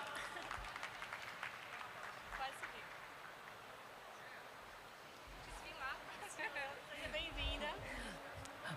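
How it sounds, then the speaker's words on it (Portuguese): An audience at a Portuguese-language talk on technology transfer and export performance applauds as a speaker is called to the stage, a soft spread-out clapping with voices and chatter rising over it toward the end. "Palmas,"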